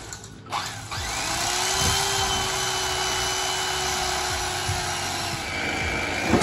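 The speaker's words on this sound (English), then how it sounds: "I'm just cutting it up with an electric turkey knife" An inexpensive electric turkey knife cuts through mattress foam with a steady, close motor buzz that runs for several seconds, along with faint rasping from the blade in the foam.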